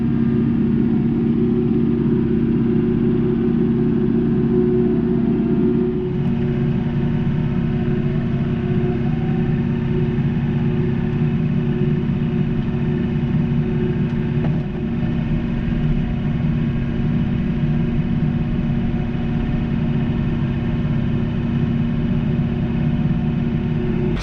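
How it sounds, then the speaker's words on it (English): A cab tractor's engine runs steadily and loudly at close range while working a deer food plot, a constant low rumble with a slight shift in tone around six seconds and no talking. "Let's do some tractor work."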